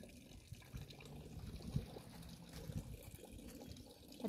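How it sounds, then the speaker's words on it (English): A garden waterfall at Chartwell House in Kent trickles and splashes steadily into a pond, a soft continuous outdoor water sound at close range with no voices. "Here's a close-up of the waterfall."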